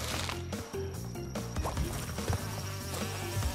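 A buzzing bee in the video game Crash Bandicoot 2: Cortex Strikes Back (N. Sane Trilogy), a quiet insect drone layered over game music and effects.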